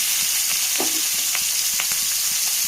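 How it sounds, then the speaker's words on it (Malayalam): Steady hiss of oil frying mackerel in a pan, with occasional sharper crackles and pops; no voices. "പിന്നെ നമുക്ക് സാധാരണ പൊരിക്കണ ഫിഷ് മറിച്ചൊക്കെ തന്നെ പൊരിച്ചെടുക്കാം"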